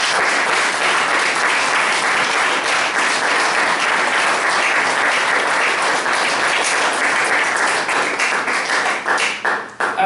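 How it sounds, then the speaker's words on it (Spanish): A church congregation applauding during a Spanish-language sermon, steady dense clapping that fills the room throughout, moderately loud and unbroken, with no voices over it until it thins slightly near the end. "Dale un aplauso, Señor."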